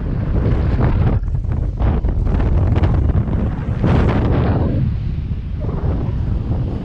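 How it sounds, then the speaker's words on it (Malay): Very strong wind gusts across the Lambadeuk reservoir in Aceh Besar, loud roaring buffeting on the microphone that surges and eases over several seconds, close and overwhelming, with no talking. "Waduh, sangat kencang anginnya."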